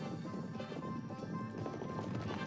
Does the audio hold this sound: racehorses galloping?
yes